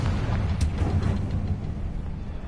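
A Confringo fire spell blasts in Hogwarts Legacy, a broad rumbling explosion with a roaring, crackling tail that stays loud throughout and fades only slightly.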